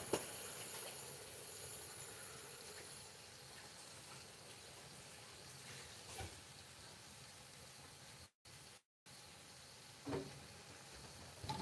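Sausage sizzling in a pan gives a steady, faint, broadband hiss that runs throughout, with a couple of brief dropouts and a few soft knocks.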